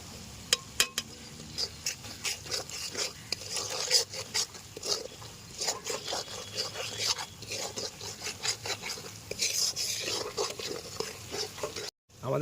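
Ground spices (coriander, cumin, turmeric, Kashmiri chilli powder and salt) are stirred and fried in a pan, with repeated scraping strokes of a spatula over a soft sizzle and a brief break near the end.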